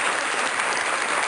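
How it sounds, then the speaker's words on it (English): Applause sound effect played on a local morning radio show, a short, dense burst of clapping at even loudness with no talking. "That's applause noise, you guys."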